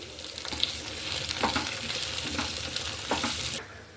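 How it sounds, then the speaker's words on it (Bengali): Capsicum is stir-fried in a pan for chilli chicken: a steady sizzle with repeated scraping stir strokes about once a second, close by, with no voices. "এবার আমি ক্যাপসিকামগুলো দিয়ে দিচ্ছি।"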